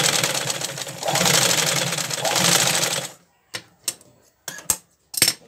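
Sewing machine stitching a handmade Santa Claus doll, running in a steady loud whir for about three seconds, then several short separate bursts as the seam is finished, with quiet gaps between them.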